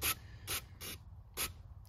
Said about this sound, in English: I'm gonna just spray a little bit of cleaner right there around the seal